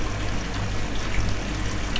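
Water runs steadily in an Indesit IWDE7168 washer-dryer during its final rinse with a load of towels, a continuous close trickle and pour over a low machine hum, with no voices.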